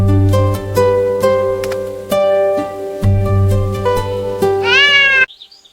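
A cartoon cat meows loudly and repeatedly in drawn-out, tonal wails over a musical backing, with the last meow rising sharply before an abrupt cutoff.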